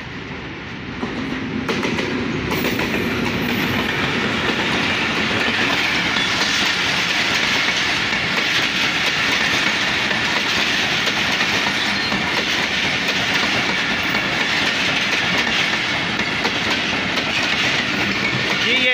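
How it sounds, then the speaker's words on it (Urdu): Badar Express passenger train on the Lahore–Faisalabad route, led by a diesel locomotive, passing through Badami Bagh station: a loud, steady rumble with continuous clickety-clack of wagon wheels over rails, sustained close by throughout. "ایک سو گیارہ بدر ایکسپریس ہے جو کہ لاہور سے فیصل آباد کے درمیان چلتی ہے"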